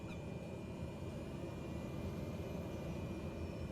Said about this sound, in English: Let's release our parking brake and give it some throttle.